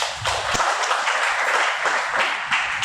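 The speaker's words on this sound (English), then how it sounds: "please clap for yourself" Seminar audience applauding together in a university library hall, a dense steady wash of many hands clapping at fairly close range for about three seconds.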